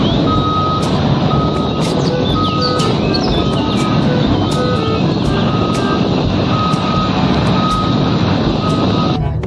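Steady high-pitched reversing beeps from a mining truck repeat at an even pace over a constant rumbling engine and broad outdoor noise, with faint bird chirps above.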